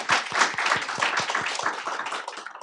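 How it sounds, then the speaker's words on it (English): A small group at a school board meeting gives a short round of applause, with distinct, fairly close hand claps in a quick rhythm that fade out after a few seconds. "let's give them a big round of applause again"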